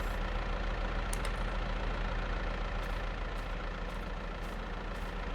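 A Ford tractor engine idles steadily in a farming game, a continuous low rumble that holds even and close for the whole stretch, with a few brief light clicks over it.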